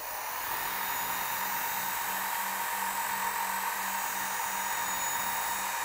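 An electric knife sharpener runs at high speed while grinding a tool, producing a steady, unbroken hiss and whine that holds at an even level throughout, with no voices.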